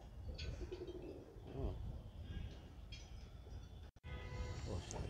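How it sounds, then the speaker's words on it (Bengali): Domestic pigeons coo in soft, repeated low throbbing phrases, with a few short chirps nearby, while people talk quietly in the background. "দেখুন এই দাদাকে আমি পায়রাটা দিচ্ছি।"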